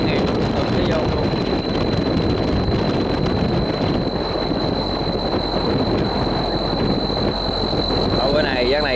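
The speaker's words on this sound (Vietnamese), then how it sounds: "Rồi bữa này giác này gió bắt thổi cũng hơi khá là mạnh nha, thổi tăng ha." Strong wind blows at sea, a constant loud buffeting roar across the microphone with gusty texture and no pauses throughout.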